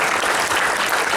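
Audience applause at a humorous health talk in Denpasar, Bali: dense, steady clapping from a crowd, close and loud, filling the whole brief moment without voices.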